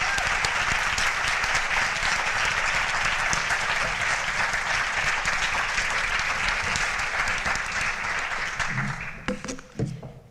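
Audience applause at a PTA candidates forum, steady dense clapping that fills the room for about nine seconds before thinning into a few scattered claps at the end.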